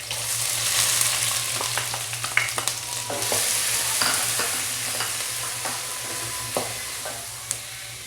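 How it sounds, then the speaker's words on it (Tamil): Green chillies fry in a pan for an egg gravy, giving a steady close sizzle with scattered crackles and spoon-stirring clinks throughout. "அந்த க்ரீன் சில்லிலாம் ஃப்ரை ஆகிடுச்சு பாருங்கள்"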